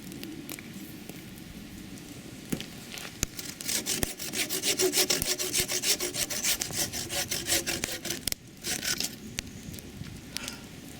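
Steady back-and-forth rasping strokes of a hand saw cutting through wood, close and rhythmic, with a brief pause near the end.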